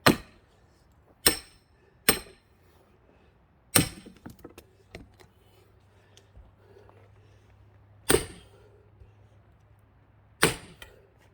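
An axe splitting firewood by hand: about six sharp, loud, close blows spaced irregularly, each ringing briefly, with a few lighter knocks between them. No one speaks.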